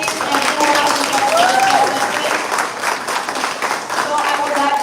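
An audience at a primary school spelling competition gives the students a round of applause, a loud, full wash of clapping that swells and dips slightly, with a few voices and cheers mixed in.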